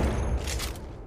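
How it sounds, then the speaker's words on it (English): Gunfire in the mobile battle royale game Apex Legends Mobile, a dense, loud burst of shots with a booming low rumble filling the whole moment. "Hey, I'm getting shot!"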